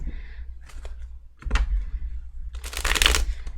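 Tarot cards are shuffled by hand in short riffling bursts, a soft flutter followed by a louder, crisp rapid riffle near the end, close and with no talking.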